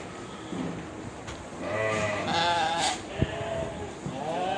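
Sheep and lambs at feed on a farm bleat several times, fairly close, over a low background hum.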